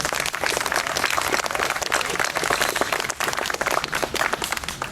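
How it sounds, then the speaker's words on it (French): A crowd applauds a sculptor at the inauguration of a five-metre Neptune carved from a dead chestnut tree, a continuous, even roar of clapping that holds steady with no break. "oui, on peut applaudir"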